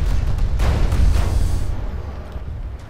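Gunfire in the sci-fi shooter game PlanetSide 2, a dense, loud burst of rapid shots rumbling for about two seconds before easing into a quieter background wash.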